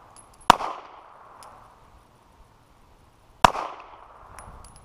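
Two sharp, loud gunshots at an outdoor gun range, about three seconds apart, each cracking hard and then trailing off in a short echo, with quiet in between.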